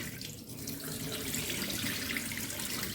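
Rice being rinsed in water gives a continuous splashing, running-water wash from a nearby sink or tap, steady and moderately loud.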